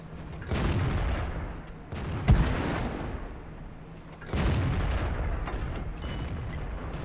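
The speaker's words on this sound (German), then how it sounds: "So, wir schießen ihn da hinten in den Treibstofftank rein" A tank cannon booms in the World of Tanks game, with a couple of heavy, rumbling blasts separated by seconds and a sharp crack at one shot, while engine rumble runs underneath.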